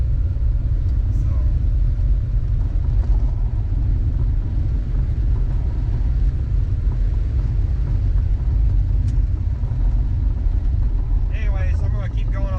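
Loud, steady rumble of a vintage vehicle driving along after a drum brake adjustment, the engine and road noise continuous and close throughout.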